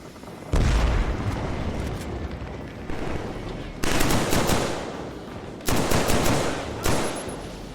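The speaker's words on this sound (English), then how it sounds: "I hear a grenade." Rapid machine-gun bursts and booming blasts, including a grenade explosion, in the shooter Killzone 3, coming in loud repeated waves with short quieter gaps between volleys.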